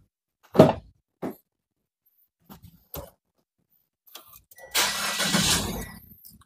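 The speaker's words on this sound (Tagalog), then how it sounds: "pag nakapatay yung makina, i-turn on natin yung engine." A few clicks and taps, then a starter cranks and a Mitsubishi Xpander engine catches, settling into a steady close idle.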